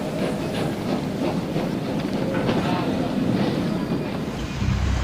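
A steam engine rolls along the track with a steady, dense rumble and hiss, close and continuous throughout.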